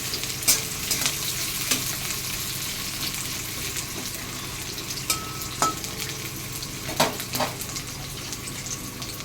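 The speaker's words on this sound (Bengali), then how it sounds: "পেঁয়াজটা আমি একটু লাল লাল করে ভাজবো।" Onion sizzles in hot oil as it fries to reddish brown for a Malabar spinach chorchori, a continuous frying hiss broken by sharp stirring clicks and scrapes.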